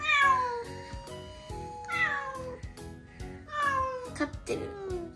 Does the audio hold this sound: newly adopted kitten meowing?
yes